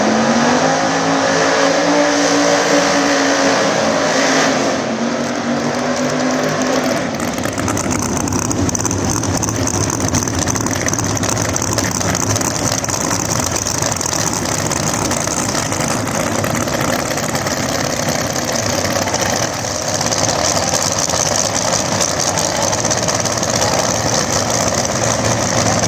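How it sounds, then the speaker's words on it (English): Pro mod drag race cars, a Chevrolet Corvette and a Camaro in a nitrous and boost class at a drag strip, idle with a rough lumpy burble, then erupt into a sustained, very loud, close engine roar. "Tim Papp, the Chevrolet Corvette on the outside, taking on Marcus Butner in the Camaro."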